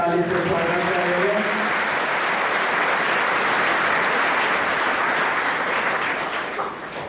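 An audience at a weekly Sunday seminar breaks into loud, continuous applause to welcome guests, a voice briefly audible at the start before the clapping dominates and tapers slightly at the end.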